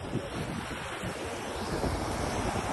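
Rushing river water and blustery wind noise buffet the microphone outdoors near a village in Pune, India, a steady broadband roar with no voices.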